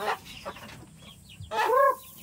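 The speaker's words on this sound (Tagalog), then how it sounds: "Walang kasawa-sawa kumain ng aming mga manok." Chickens cluck close by in short, choppy calls while feeding on a farm in the rural Philippines, with a louder run of clucks near the end.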